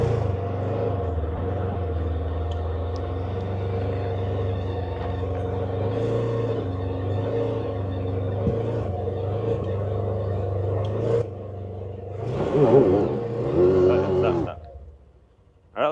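Polaris Xpedition UTV engine droning steadily as it climbs a steep hill, a loud low rumble that holds for about eleven seconds, then surges and revs harder before cutting away; no voices.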